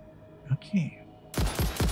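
A weapon fires in the video game Satisfactory as a quick burst of several loud, close shots packed into the final half second, after a couple of short spoken sounds.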